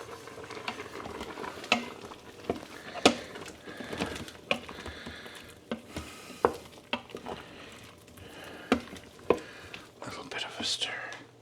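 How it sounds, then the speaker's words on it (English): Keto chili being stirred in a pot, a beanless chili with spices, giving soft scraping and sizzling sounds with scattered clinks of a utensil against the pot, fairly quiet and close over about eleven seconds. "let me give this a stir"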